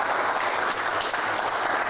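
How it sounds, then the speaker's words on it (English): Audience at a small graduation ceremony in Stellenbosch clapping together, a dense, continuous round of applause that stays loud and even throughout. "let's give a last round of applause to the diploma"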